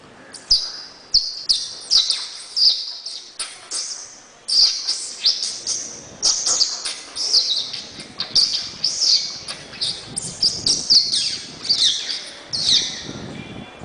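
Voice imitating small birds during a mimicry performance at a school stage event, a rapid series of bright, close chirps and tweets in quick irregular bursts that continue throughout, with no other voices.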